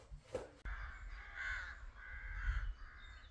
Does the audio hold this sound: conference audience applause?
no